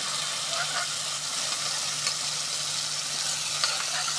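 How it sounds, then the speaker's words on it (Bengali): Pumpkin paste frying in ghee, a steady, even sizzle close by with faint occasional stirring and no voices. "এখন ঘিয়ের মধ্যে আমি মিষ্টি কুমড়া দিয়ে ভেজে নেব"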